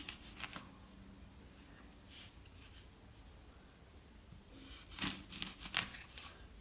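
A knife slicing through a prickly pear held steady with a fork, giving a few short, quiet scraping cuts near the start and a louder cluster of crisp cuts toward the end.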